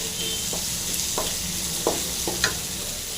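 Onion and garlic fry in a pan for a Tamil brinjal and chilli masala gravy, giving a steady broadband sizzle with a few soft spoon scrapes and stirs scattered through; no voices are heard.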